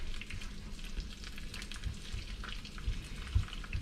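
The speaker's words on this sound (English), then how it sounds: "now I just scramble the egg in the what seems to be excessive amount of oil, and let that kind of cook" A scrambled egg fries in a generous pool of oil for nasi goreng with sambal matah, giving a soft, steady sizzle with light crackles and pops and occasional low clunks, with no talking.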